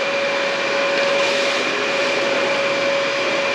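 A Dyson vacuum cleaner runs with suction, a loud, steady whine with a constant tonal hum, close by and unbroken, with no one talking over it.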